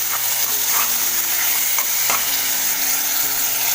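Tempering sizzles loudly and steadily as green coconut chutney goes into the pan and gets stirred, with soft scraping strokes over a constant hiss and no talking.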